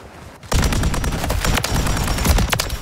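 A Pulemyot 762 light machine gun in Modern Warfare 3 opens up after a brief quiet, firing a loud, dense, sustained automatic burst of rapid shots close up, with no talk.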